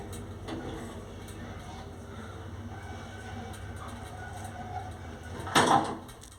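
A 1938 Wertheim elevator, modernized by Zremba and serving a single ground floor, runs with a steady low mechanical hum and rumble, and a sliding shaft door clatters loudly near the end.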